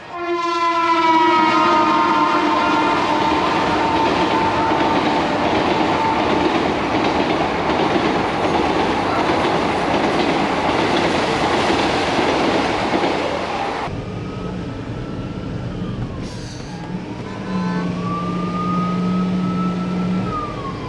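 A loud train rumbles past continuously at a city railway station in India, with a long horn blast, then a siren-like wavering tone and another horn near the end.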